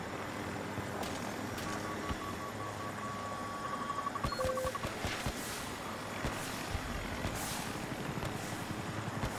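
A helicopter in the Battlefield 2042 video game drones steadily in the background, a continuous mid-distance rotor rumble with game sound effects, a brief tonal beep and scattered impacts layered over it.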